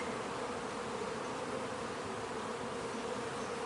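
Honeybees at an opened, queenless hive showing swarm cups hum in a dense, steady drone, close and constant throughout with no voices over it.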